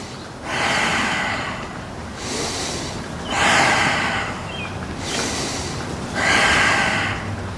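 Steady exercise breathing from one person, rhythmic inhales and exhales repeating about four times in slow even cycles, close and fairly loud, with no talking.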